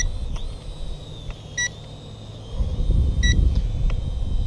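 A toy EACHINE E58 WiFi FPV quadcopter drone beeps twice, short high double chirps spaced well apart and heard up close, over a steady high whine and low wind rumble outdoors.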